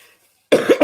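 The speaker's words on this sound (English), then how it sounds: "Another cough." After a brief quiet pause, a person coughs loudly and close up, a quick burst of two or three harsh coughs.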